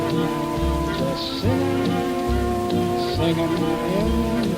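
Steady heavy rain pours throughout a Singing in the Rain movie-ride scene, a loud continuous patter on surfaces with orchestral music playing underneath.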